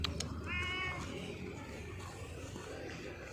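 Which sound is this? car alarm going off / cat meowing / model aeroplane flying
cat meowing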